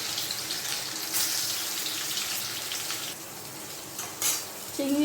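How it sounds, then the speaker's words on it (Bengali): Prawns fry lightly in a pan, giving a soft steady sizzle with faint stirring scrapes, a few brief clinks, and a short tap-water run near the end. "চিংড়ি মাছ তাই বেশি ভাজতে হয় না, আমি একটু হালকা করে ভেজে নামিয়ে নিচ্ছি।"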